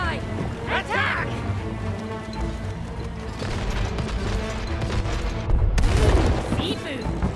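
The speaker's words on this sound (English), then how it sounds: "Hey, I don't like their cannons." Pirate ships fire cannons in the video game It Takes Two, producing repeated booms and rattling volleys in a dense, loud mix of game effects, with the heaviest blast near the end.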